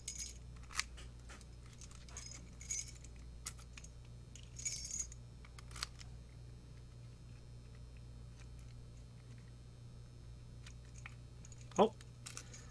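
A ring of control keys for a BEST 5L cabinet lock is handled, giving a few scattered metallic jingles and clinks over a low steady hum, with one brief sound near the end.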